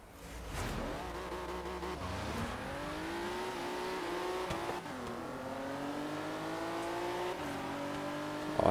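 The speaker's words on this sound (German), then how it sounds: "Das ist eine schöne Beschleunigung." A car accelerates hard in Forza Horizon 3, its engine pitch climbing through several gear changes with brief dips between shifts. The revving is loud and continuous.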